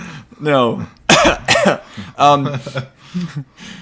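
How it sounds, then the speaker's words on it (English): Someone gives a series of deliberate, exaggerated coughs up close, interspersed with voiced throaty sounds, clearly put on rather than natural. "That was a fake cough, by the way."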